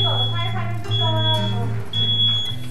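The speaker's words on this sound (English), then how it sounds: "Smoke detector." A high-pitched smoke alarm beeps steadily, with a brief gap before resuming, while people talk loudly over it nearby.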